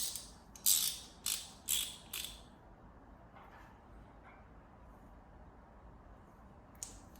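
A ratcheting flare wrench from Anvil clicks in four quick, crisp bursts up close, followed by quiet with faint handling noises and one final click.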